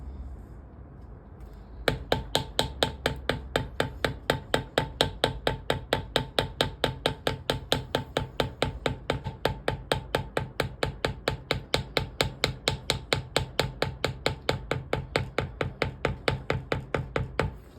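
Steady, rapid hammer taps strike a leather carving tool over and over in an even rhythm, close and crisp, after a moment of quiet.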